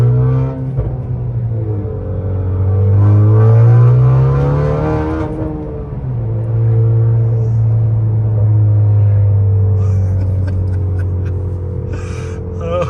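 A tuned 2019 Honda Accord Sport 2.0T with a manual gearbox pulls hard from inside the cabin. The loud engine drone climbs through the revs, drops at a gear change, then climbs again, with no talk.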